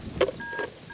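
A satellite phone sleeve gives short electronic beeps as it powers on, two close tones followed by a thin sustained tone, clear and nearby with no talk.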